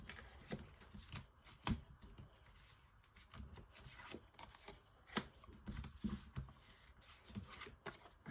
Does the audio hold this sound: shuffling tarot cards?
yes